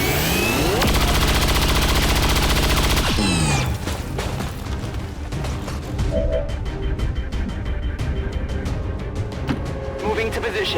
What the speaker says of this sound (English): We could try for a chain shot, but it's a very low percentage, so we'll just take a standard shot instead.